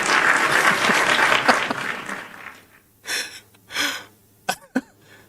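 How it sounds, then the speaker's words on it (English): Scattered clapping on a casual livestream, a burst of claps that thins out over a couple of seconds, followed by a few brief sharp sounds and short breaths. "clap it up for the list"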